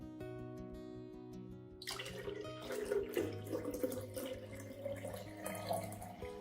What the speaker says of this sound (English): Then add 1 liter of clean water.